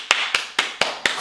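Five sharp, evenly spaced hand claps ring out close and loud in quick succession.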